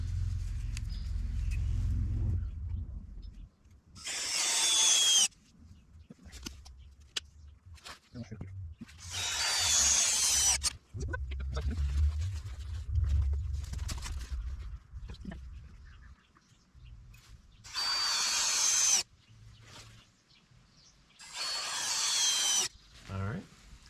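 A power drill drives fasteners into wooden stair parts in several loud whirring bursts of a few seconds each, separated by quieter stretches with someone talking and handling the work.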